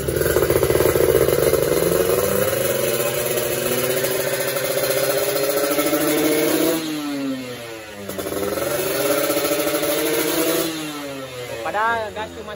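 A motorcycle engine after a grounding superbooster install on an RS1, revving up and dropping back to a strong idle several times, loud and close, with a person talking over it.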